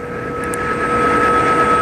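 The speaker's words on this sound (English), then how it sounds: "Helicopters fly just above the smoke." Aircraft engine drone, likely helicopters flying just above wildfire smoke over burning Los Angeles hills, a steady mid-level rumble with a sustained tonal whine running throughout, no voices.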